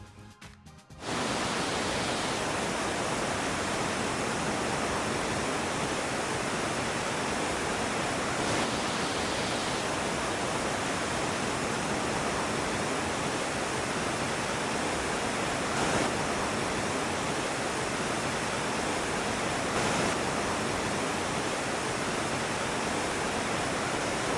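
A large grand waterfall roars loud and unbroken, a dense, steady rush of falling water close by with no voices.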